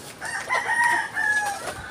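A young rooster (stag) crows once, close and clear, a short strained call with no voices around it.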